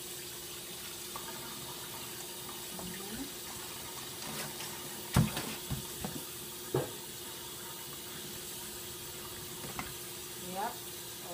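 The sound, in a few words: washing sorrel under running water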